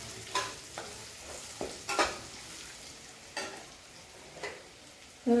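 Spices being stirred into frying paneer pulav with light clicks and scrapes of a spoon against the pan over a soft steady sizzle, no voices.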